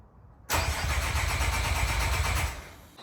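A car engine, left unused for a week, cranks and fires into a loud, close roar, then settles after about two seconds toward a lower idle.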